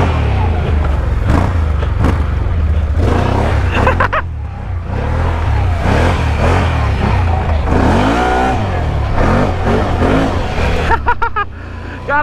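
Can-Am Outlander four-wheeler engine revving hard during wheelies, with repeated close throttle blips, rises and falls, and people talking and shouting over it.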